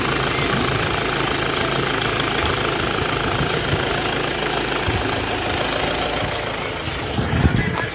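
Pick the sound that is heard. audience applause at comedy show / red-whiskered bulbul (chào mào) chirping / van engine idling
van engine idling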